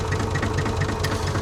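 An old, shaky tractor engine idling, a close, steady low rumble with an even knocking pulse and rattling vibration, no speech.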